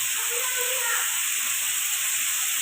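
Tomatoes roasting whole on a stove for a desi tomato chutney give a steady, loud broadband hiss and sizzle that runs evenly throughout, with faint bubbling beneath.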